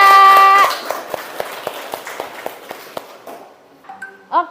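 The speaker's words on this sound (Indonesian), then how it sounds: "Beri tepuk tangan untuk Rapka." Sparse, evenly spaced handclaps from a school class sound fairly quietly, framed by short electronic tones at the start and end.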